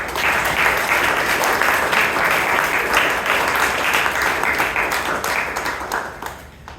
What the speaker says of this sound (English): Let's give our president a huge round of applause.